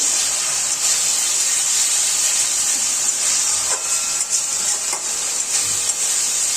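Spice masala fries in oil for a kofta curry, giving a steady, loud, hissing sizzle that holds evenly throughout with faint stirring touches.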